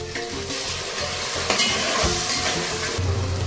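Curry leaves hit hot oil for an Andhra-style Godavari fish curry, giving a close, steady crackling sizzle with a sharper burst partway through and no voices.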